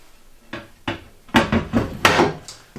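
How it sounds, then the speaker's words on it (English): A cupboard door in the kitchen of a 2020 Jayco Pinnacle 32RLTS RV opens and closes with a string of close wooden knocks and thuds, several clustered bumps and a firmer shut near the end. "Cupboard door down there."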